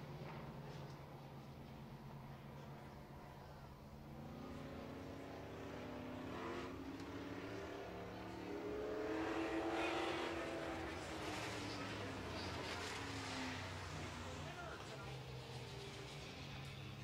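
Midwest modified race cars run a heat race at Red River Co-op Speedway, their engines a distant, steady roar that swells and fades as the pack circles the track under a wash of crowd and ambient noise.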